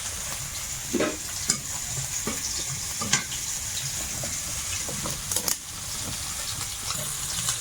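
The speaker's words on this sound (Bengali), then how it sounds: "লঙ্কাগুলো একটু ভাজা হয়েছে" Dried red chillies fry in hot oil with a constant bright sizzle, broken by several sharp utensil scrapes and knocks against the pan, close up and with no talking.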